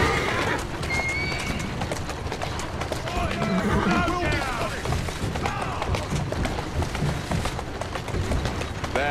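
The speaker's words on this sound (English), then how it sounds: "Who's a good horse? You are." In the video game Assassin's Creed Syndicate, repeated horse whinnies and neighs ring out over rhythmic galloping hoofbeats, with a voice speaking now and then amid the steady clatter.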